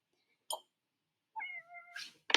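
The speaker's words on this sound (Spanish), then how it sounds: "es que está acá mi gatita queriendo participar" A pet cat meows several times close by, first with a short chirp and then with a longer drawn-out mewing call, ending in a sharp final meow against near silence.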